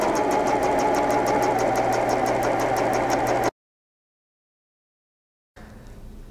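A sewing machine stitching a leotard for a ballroom competition dress runs with a steady, rapid mechanical whir for a few seconds, then stops before a quieter room tone returns.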